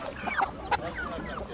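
Village chickens and roosters at a poultry market cluck and squawk in a busy, overlapping chorus, with scattered sharper calls standing out against the crowded ambient noise.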